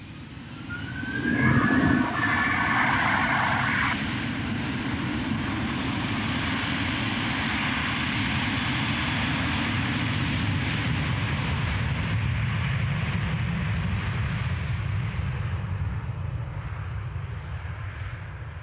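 Delta airliner rolling at Amsterdam Schiphol Airport, a loud, steady jet engine roar that swells early and holds as a broad continuous rumble throughout, with no talk.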